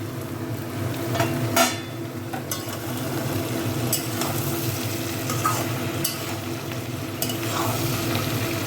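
Chicken pieces for chilli chicken fry in a pan with a constant close sizzle, while a utensil stirs and scrapes at intervals, now and then clanking against the metal.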